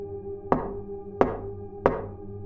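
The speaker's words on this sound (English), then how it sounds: "When we didn't open up, they knocked again." Three sharp knocks on a front door, evenly spaced about two thirds of a second apart, each ringing briefly over a steady low hum, with no voices.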